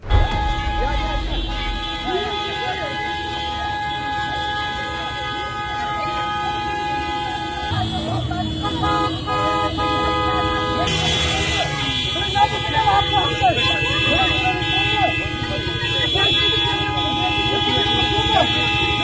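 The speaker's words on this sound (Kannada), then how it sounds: "ಎಲ್ಲೆಡೆಯೂ ಹಾರ್ನಿನದೇ ಸದ್ದು" Vehicle horns blare over and over in a traffic protest against a zero-traffic VIP convoy, with overlapping sustained honks and short toots over engine rumble. A voice talks over the din throughout.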